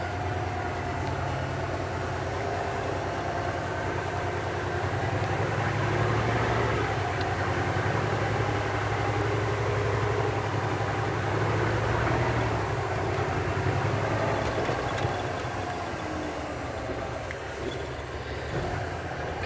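Truck with an Eaton Ultrashift transmission on a test drive: a steady, loud rumbling engine and road drone runs throughout, with only slight changes in pitch and no pauses.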